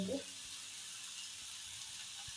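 Tomato and turmeric frying in a pan, giving a steady, fairly faint sizzling hiss that holds for a couple of seconds, with a brief stirring clatter at the very start.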